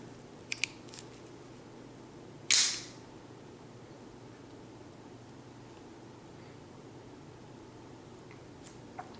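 An Italian shell puller switchblade snaps open with a single sharp, close click, preceded by faint small clicks and surrounded by quiet room hiss.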